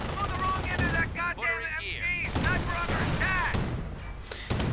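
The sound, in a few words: sniper and machine gun fire in a video game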